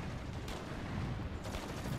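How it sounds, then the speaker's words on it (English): Steady gunfire and battle noise in Warhammer 40K: Eternal Crusade, a dense, continuous barrage at close range with sharper bursts near the start and end, no voices over it. "What the fuck is shooting at us now?"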